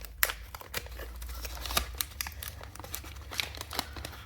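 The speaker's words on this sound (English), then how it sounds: "let's check out what we have in this wax pack. Again, I'm going to try to be careful about opening it" A 1987 Donruss baseball card wax pack wrapper is opened carefully, with close, crisp crinkling and small tearing rustles in irregular bursts, and no talking.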